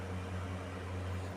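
Solar-powered electric fan motor running on a modified sine wave inverter at speed 1, giving a steady close hum with a strong low buzz, continuous and unbroken, with no voices.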